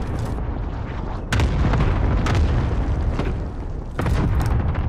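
Allied cluster airstrike in a video game: a string of heavy rumbling booms and sharp bursts arriving in quick succession, loud and close, with no talk.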